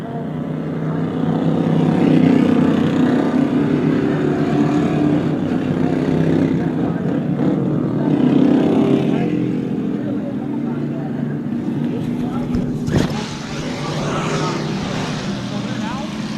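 Super Stock race cars roll off at New Smyrna Speedway in Florida, their engines a steady, distant drone that swells and fades around the track while an announcer talks over it throughout.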